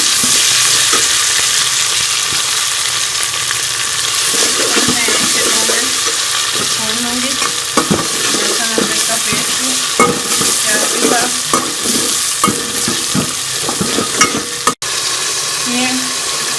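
Garlic-ginger paste sizzles with golden fried onions in a hot pan, a steady dense crackle and hiss throughout, broken by the scrape and clatter of a spoon stirring the mixture.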